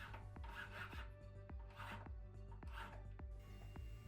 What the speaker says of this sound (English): I'll do this by using my file.